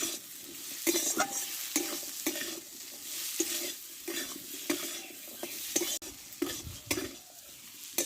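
Thin-cut small potatoes stir-fried with spices in a pan: a steady sizzle and frying hiss with repeated scraping and stirring strokes of a spatula against the pan, close and continuous.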